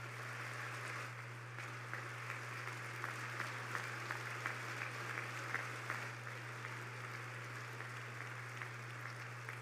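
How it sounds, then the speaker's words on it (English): The audience at a presidential State of the Union address claps in sustained applause. The steady clapping fills the whole stretch at moderate distance, over a low constant hum. "They can sit down and clap."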